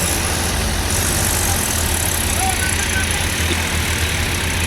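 A ginger-loaded tractor stuck in mud in a pigeon pea field drones steadily and loudly as it tries to pull out, a low rumbling hum under faint background noise.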